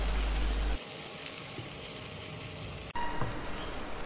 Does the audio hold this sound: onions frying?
yes